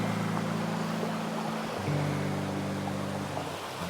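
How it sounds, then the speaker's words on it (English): Water pouring at an unnamed waterfall near Bellangry, a steady broad rushing roar that holds constant throughout with no voices, heard from a short distance on a forest trail. "I can see water pouring."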